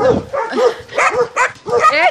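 Dogs at an animal shelter bark and yip close by in several short, loud bursts, joined by whimpering, with people talking alongside.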